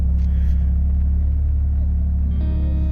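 A Heritage Edition BMW M4 engine idles steadily up close after starting, a constant low rumble that holds level throughout, with a brief higher tonal whine entering near the end.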